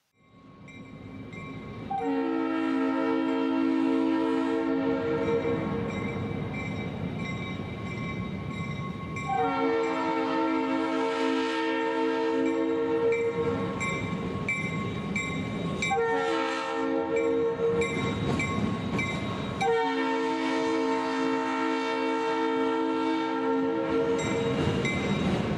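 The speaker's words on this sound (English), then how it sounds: "Union Pacific's GP35s were most likely equipped with RS3L air horns" Union Pacific GP35 locomotive sounding RS3L air horns, a loud multi-chime chord blown in four long blasts with short gaps between them, close and clear over steady rail and engine noise.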